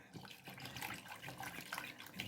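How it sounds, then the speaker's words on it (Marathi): Water splashes and pours into a cooking pot nearby, a quiet, uneven gurgling stream lasting a couple of seconds. "आता मी इथं पाणी पण घालते"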